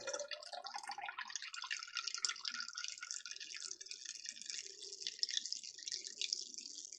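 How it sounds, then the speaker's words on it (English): Cranraspberry juice is strained from a jar and pours in a thin, steady trickle that rises in pitch as the vessel fills, faint and close with no talking. "you can just strain off just the juice from the jar."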